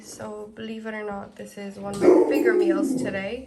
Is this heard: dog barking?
yes